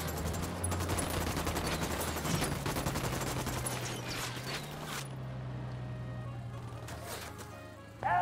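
Gunfire erupts in the video game Ghost Recon Wildlands as rapid bursts of rifle and machine-gun shots, dense at first and then sparser over a low vehicle engine hum.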